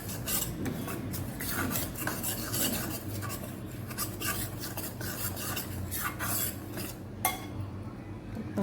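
Stirring rava besan barfi mixture in a kadhai to cool it, a continuous scraping and rubbing of spoon against metal with occasional clinks, close and fairly soft, with no talking.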